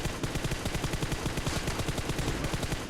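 Rapid automatic gunfire from PUBG Mobile rattles in a dense, continuous burst of loud, evenly spaced shots, close and without talking.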